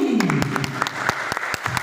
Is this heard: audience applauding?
yes